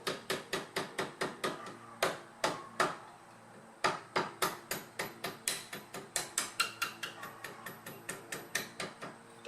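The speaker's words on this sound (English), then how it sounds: "put it right on the tip, and just give it some light taps to push it out" Steady rhythmic metallic taps of a hammer on a punch, pushing a brake caliper pin out during a budget brake job, about two to three sharp close strikes per second with a short pause between runs.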